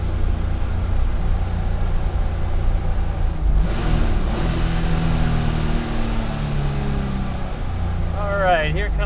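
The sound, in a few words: 1974 Porsche 911 engine turning around and driving uphill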